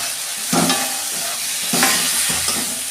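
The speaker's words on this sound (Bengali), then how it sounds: "এবার ভাজা আলুগুলো দিয়ে দিচ্ছি" Fried potatoes stirred into sizzling spice masala in oil for a Bengali fish-roe recipe, a steady close sizzle broken by two distinct scraping stirs.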